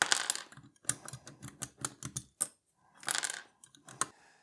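Shine-through keycaps being pressed onto the number pad of a NuPhy Air 96 low-profile wireless mechanical keyboard, a quick run of light plastic clicks and taps in uneven bursts with brief pauses, close and fairly quiet.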